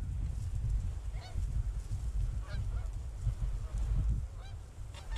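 Geese honk intermittently during a goose hunt over steady low wind rumble, the calls scattered and moderately distant.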